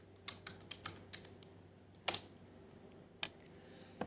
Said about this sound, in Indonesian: Maka kita ketik perintah X sama dengan 2, Enter,